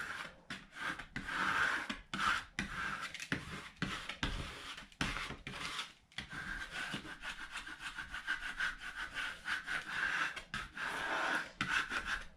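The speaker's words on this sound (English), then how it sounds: "I'm going to go ahead and take my scraper tool now, and I'm just going to go over everything and get that rubbed in" A scraper tool is rubbed back and forth over vinyl on a Santa snack tray, giving steady rhythmic scraping strokes, close and fairly loud, with brief pauses between passes.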